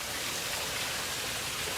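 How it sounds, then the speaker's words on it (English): Steady rushing water of a waterfall beside an off-trail camp spot with conglomerate rock, a continuous broadband roar heard close and alone for a couple of seconds. "Because you have the waterfall."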